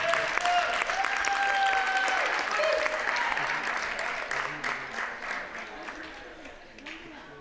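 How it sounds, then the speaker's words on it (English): Steady applause from the audience at an Arctic Sports event in the Inuit Games, a dense crowd clapping that gradually thins and fades near the end. "So a big round of applause"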